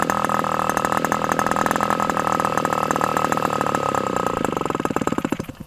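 A Tower Pro 61 model aircraft engine screams at high revs with a propeller fitted that is too big for it, a loud, rapid buzzing drone that holds steady, then stutters into uneven pulses as it slows near the end.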